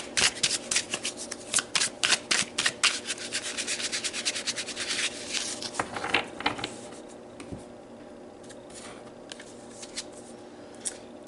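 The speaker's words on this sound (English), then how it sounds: "let's pull a few tarot cards" Tarot cards being shuffled by hand, a fast run of crisp riffling flicks for about six seconds, then quieter scattered card slaps and taps, close and alone without talk.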